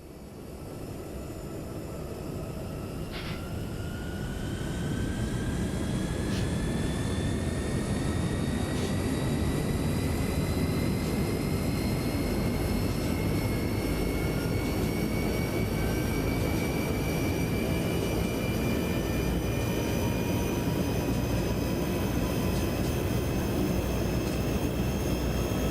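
A YS-11 turboprop engine spins up in Microsoft Flight Simulator 2024, a loud broadband roar that builds over the first few seconds and then holds steady, with rising whining tones climbing slowly above it.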